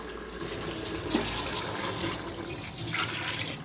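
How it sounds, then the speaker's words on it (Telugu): Water pours steadily into a cooking pot of rice and chicken, a continuous rushing, splashing flow that stays fairly even throughout, close and moderately loud with no talking. "ప్రస్తుతం ఆ వాటర్ వేసామా ముందు"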